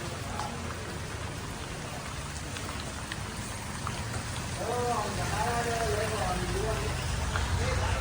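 Steady rain patters on surfaces outdoors, a constant dense hiss, while voices talk over it in the second half.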